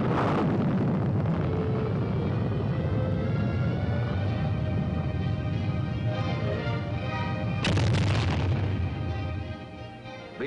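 A U.S. Army Lacrosse surface-to-surface missile fires, producing a loud, sustained roaring blast that rumbles for about ten seconds, with a sharp crack partway through before the roar begins to fade.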